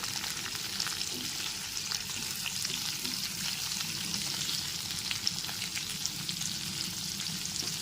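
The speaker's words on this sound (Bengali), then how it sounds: "কেটে রাখা কুমড়োগুলো দেওয়ার পর তিন থেকে চার মিনিট ধরে কুমড়োগুলোকে ভেজে নিতে হবে" Pumpkin pieces fry in a pan for a plain potato-pumpkin curry, giving a steady, dense sizzle throughout with soft scraping stirs. There is no talk.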